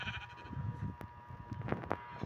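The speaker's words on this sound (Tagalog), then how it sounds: "Nakasunod yung kambing." Faint goat bleats in the game Minecraft, a few short bleats near the end over low background noise.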